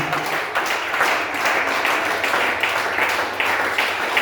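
A church congregation in Lubumbashi applauding and cheering, dense sustained clapping and crowd noise filling the room loudly throughout.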